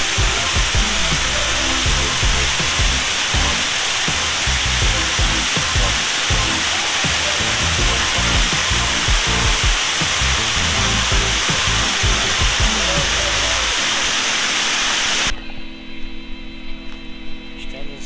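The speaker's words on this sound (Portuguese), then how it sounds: "Estamos em cima da cachoeira." A loud, steady roar of rushing water from atop the Almécegas waterfall in the Cerrado fills the scene without pause, dropping abruptly to a quieter, thinner rush near the end.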